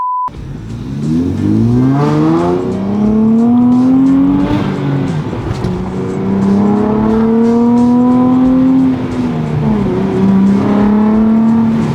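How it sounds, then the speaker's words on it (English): A Nissan Z's VQ V6 engine with aftermarket downpipes revs loudly nearby, its raspy note climbing and falling in several long swells. "It still has that distinctive Nissan like VQ noise"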